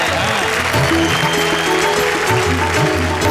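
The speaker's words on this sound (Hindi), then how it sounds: "तालियां बजा दो जोरदार तरह यार, मेरी उपलब्धि के लिए तो बजाओ।" An audience claps loudly for a poet at a Hindi poetry recital, a steady wash of applause that runs throughout over a tonal musical backing.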